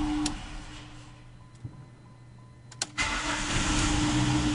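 A car engine run by rusEfi engine control is cold-started: a quiet idle drops away, then a sharp click and the engine catches and settles into a loud, steady close idle.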